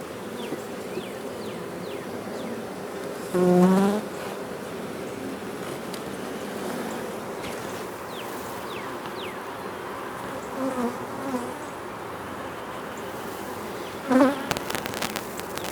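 Steady insect buzzing of honeybees around a hive fills the clip, with a couple of brief louder buzzes as bees pass close by.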